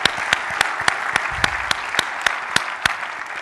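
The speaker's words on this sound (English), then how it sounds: "So again, maybe another great round of applause for Duncan Wise and Jeremy Rogers" A business summit audience applauds steadily with dense, overlapping clapping, a few sharper individual claps standing out, fairly loud and sustained.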